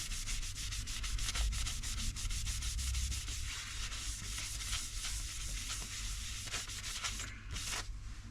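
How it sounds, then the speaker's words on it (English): Steady abrasive sanding hiss against a spalted timber vase spinning on a lathe, with a constant low motor hum underneath throughout. "So I'm going to sand and seal it and get some wax on it."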